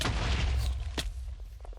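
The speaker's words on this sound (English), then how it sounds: "Explosions." Explosions in a modded Minecraft game go off as a loud, rumbling blast followed by a sharper boom, each with a decaying low-end tail.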